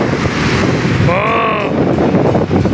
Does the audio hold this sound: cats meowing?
no